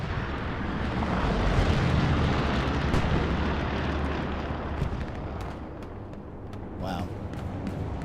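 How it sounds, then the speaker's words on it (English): Bombing run explosions in the Hell Let Loose video game, a heavy rumbling roar of blasts rolling on for several seconds with scattered sharper cracks, under commentary talk. "That's their last bombing run."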